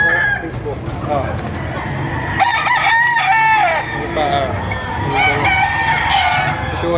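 Roosters crow repeatedly at a busy chicken market in Batangas, several loud cock-a-doodle-doos rising over constant clucking and crowd chatter, with people talking throughout.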